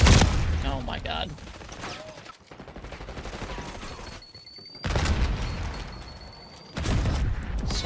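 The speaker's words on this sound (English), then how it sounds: "So many Semtex noises." Semtex grenades detonate in Call of Duty: Black Ops 6 multiplayer gameplay, with sharp booming blasts and bursts of gunfire arriving in loud waves separated by short lulls.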